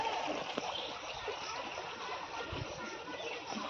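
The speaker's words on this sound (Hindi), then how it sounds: "उधर से पानी इधर इंटर हो रहा है और इधर से निकल रहा है" Floodwater pours into a village pond during heavy monsoon flooding, a steady broadband rush of flowing water like a stream that stays constant and fairly close, with a few faint splashes and no talk over it.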